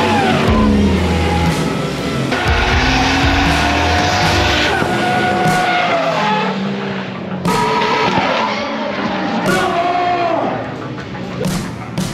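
Drift cars skid and squeal their tires along a long drifting track, with engines revving loudly and repeated wavering squeals close by, while people talk under the noise.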